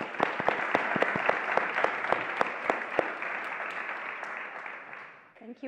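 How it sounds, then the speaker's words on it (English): Audience applause welcomes the speakers at an evening conversation event, a full, even wash of clapping with a few sharper nearby claps, fading out near the end as a voice begins. "give a warm round of applause"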